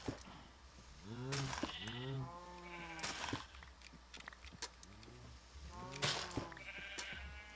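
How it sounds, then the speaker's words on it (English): Sheep in the video game Minecraft bleat repeatedly, several wavering baa calls in short clusters, fairly faint with gaps between them and no talk. "Sheep."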